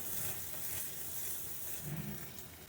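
Butter chicken masala fries in a little oil, giving a soft, continuous sizzle with faint stirring, quiet and close with no voices.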